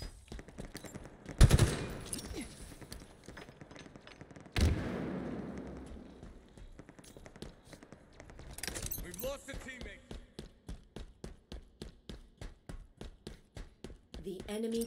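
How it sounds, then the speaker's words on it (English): Sniper rifle shots in a Capture the Flag match on the Argyle map, two sharp loud cracks a few seconds apart, followed by rapid repeated gunfire and a busy game soundscape with talk over it. "Two more coming from their sniper."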